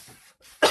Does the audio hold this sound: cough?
yes